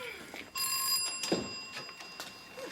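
An old-style telephone bell rings in a single bright burst, fairly close, with a soft thump and room noise around it.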